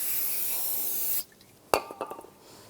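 Brake parts cleaner hisses in a steady aerosol spray onto the rear brake rotors of a 2001-2006 BMW 325Xi, stopping after about a second, followed by a sharp metallic clink and a few light taps.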